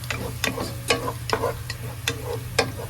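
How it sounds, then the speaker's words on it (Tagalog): Garlic sautéing in a pan for kare-kare, with steady frying noise under repeated sharp scrapes and stirs of a utensil against the pan, close and moderately loud, with no talking. "Igisa na natin yung bawang."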